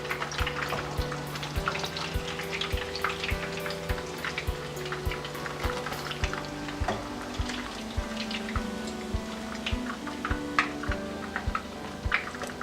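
Breaded tonkatsu pork cutlet fries in a shallow pan, giving a continuous crackling sizzle with scattered sharper pops and some scraping clatter, heard alone without talk.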